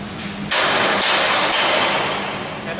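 A hammer strikes a scaffold standard three times in quick succession, each loud, close metallic blow followed by ringing that fades slowly.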